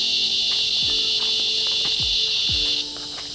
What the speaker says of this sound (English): Nocturnal critters are coming, like the bugs and all that other stuff.